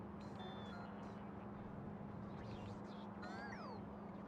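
Cat meowing loudly in the background, a few drawn-out, rising and falling meows at a distance over a constant steady hum.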